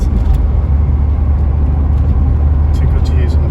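A 1985 Ford Escort RS Turbo cruising in fifth gear at about 50 mph on winding Lincolnshire country roads, with a loud, steady engine drone and road rumble throughout.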